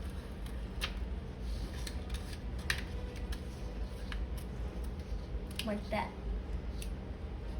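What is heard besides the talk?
scissors cutting a slit in a paper roll model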